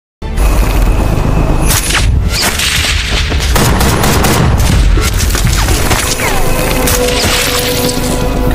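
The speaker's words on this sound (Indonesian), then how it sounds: "Dengan tembakan jitu pun, Mirko berhasil menghabisi 2 orang" Continuous loud game gunfire: rapid shots and bursts crackle over a heavy rumbling background, dense and close throughout.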